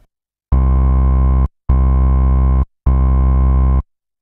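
Three evenly spaced, sustained Sylenth1 synth bass notes shaped with EQ and compression, deep and thick with a solid, compressed low end, each cut off cleanly before the next.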